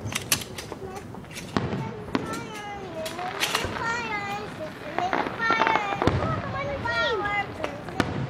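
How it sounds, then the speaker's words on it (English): Independence Day fireworks bursting outdoors, with sharp bangs and crackles recurring irregularly alongside whistling rising shells, while people and children talk and call out throughout. "Really nice fireworks."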